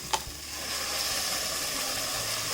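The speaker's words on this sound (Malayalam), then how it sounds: "ഈ അടിച്ച് വെച്ചിരിക്കുന്ന ടൊമാറ്റോ ഇല്ലേ അതിട്ട് കൊടുക്കാം" A brief wet splash as blended tomato goes into a hot pan, followed by a strong, steady sizzle that continues without pause, close by and fairly loud.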